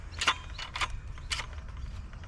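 Blade depth being adjusted on a circular saw, giving a few short metallic ratcheting clicks close up, in three or four quick bursts with no talk.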